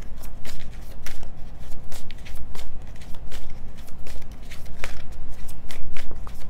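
Tarot cards being shuffled and drawn, a steady run of crisp riffling snaps and papery flicks close by, with no one speaking.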